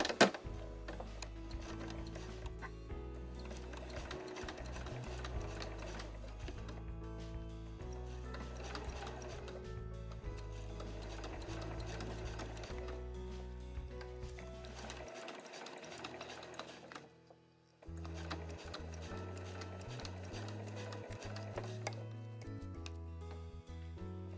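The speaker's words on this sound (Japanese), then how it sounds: "それでは先ほどと同じように端から 5mm を縫います" Sewing machine stitching Marimekko cotton fabric 5 mm from the edge for a small cosmetic pouch, a fast steady mechanical whir and ticking that runs continuously, pauses briefly, then resumes, close and without talk.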